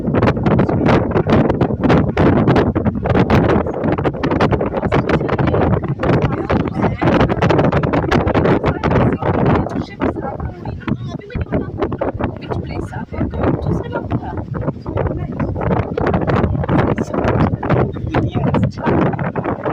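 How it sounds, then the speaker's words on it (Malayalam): Strong wind roars at the top of the Kovalam lighthouse, loud and close, battering the microphone in constant gusts and rumbles for the whole stretch. "ഭയങ്കര കാറ്റും, ആ കാറ്റിൻ്റെ സൗണ്ടാണ് കേട്ടോ കേൾക്കുന്നത്."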